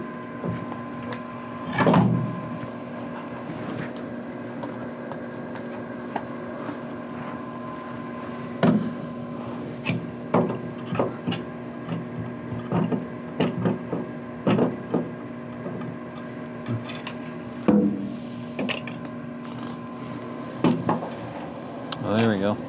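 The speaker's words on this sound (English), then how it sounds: "getting the grinder." Angle grinder working on a through-hull fitting aboard a steel sailboat under restoration in Wrangell, Alaska, a steady motor whine broken by sharp metallic clanks, with someone talking intermittently over it.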